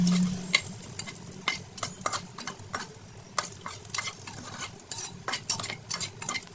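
Cashews stirred and fried in leftover oil in a pan while making egg pulav, heard as a soft sizzle under frequent clinking, scraping spoon strokes against the pan, close by and without talk.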